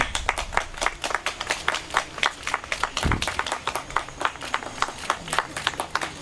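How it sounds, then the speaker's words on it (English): Applause from an audience at the unveiling of a Mahatma Gandhi monument in Kyiv, a brisk crowd of clapping hands with sharp individual claps, steady and fairly close, ending before the next speaker. "Applause!"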